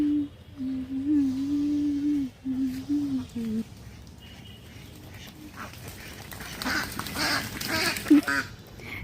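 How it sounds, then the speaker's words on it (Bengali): Ducks frightened by a dog quack in a nervous, agitated flurry, a steady run of calls at first, then a more scattered, noisier stretch with other commotion. "এই হাঁসগুলো ওই কুকুর দেখে ভয়তে ডাকছে এরা"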